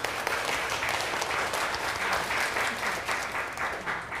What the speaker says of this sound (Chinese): 我们拍手欢迎哈